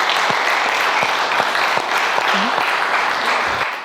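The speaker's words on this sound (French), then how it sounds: "On peut encore les applaudir, s'il vous plaît." A crowd at a Paris magazine launch event claps loudly and steadily in a dense, sustained round of applause that trails off slightly at the end, with a faint voice underneath.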